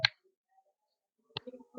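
Hand clapping at a spiritual talk on Sri Shankara, two sharp dry claps about a second apart, close and fairly quiet, with a little faint murmur after the second.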